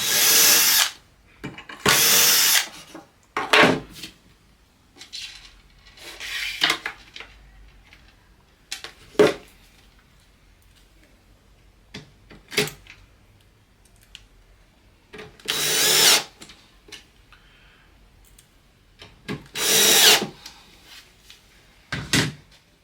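Short bursts of a power drill boring holes with a 2.5mm bit through a Blum drilling jig on a drawer front, repeating intermittently with quiet pauses and small handling knocks between.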